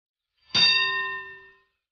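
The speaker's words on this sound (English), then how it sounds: "Oh, the bell has rung." A single bell-like electronic chime rings once, clear and ringing, then fades over about a second in otherwise silence, signaling a school bell.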